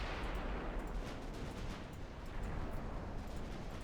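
Naval gunfire in the warship video game Ultimate Admiral Dreadnoughts, a dense rumbling wash of distant heavy guns that blends into a continuous roar at a steady low level.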